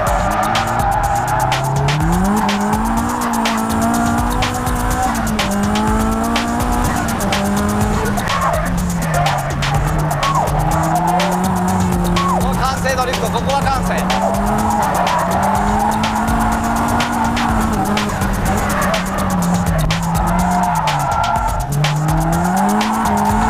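A drifting race car, driven by a Japanese drift specialist using braking drifts and feints, gives continuous loud tire squeal over a steady engine roar, with the pitch sliding and wavering through long sustained slides and no pauses.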